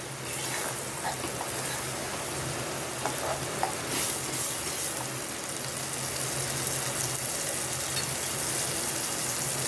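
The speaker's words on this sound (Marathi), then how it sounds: "हलक्या हाताने हे ढवळून घ्यायचे आपल्याला." Small fish are stirred gently in a clay pot as they cook. A steady sizzle continues throughout, with occasional soft scraping from the stirring.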